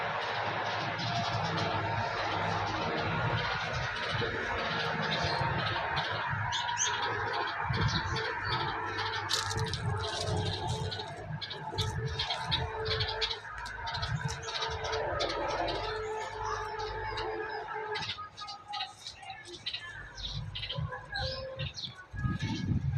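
Soft high chirps and peeps from golden pheasant, green Java peafowl and turkey chicks, scattered and continuous at close range, with people talking over them.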